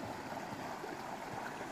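River water flowing past a spot where it was dumped with fill, turning it murky and carrying sand along, a steady soft rushing wash close by with no talk.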